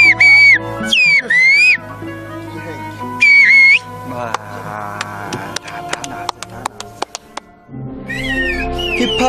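Whistling greeting in rural Turkey: several loud, sliding, bird-like whistled calls in short bursts, separated by quieter stretches of clattering and background sound.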